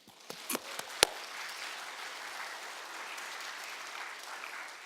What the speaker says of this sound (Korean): 이 박수 한번 하겠습니다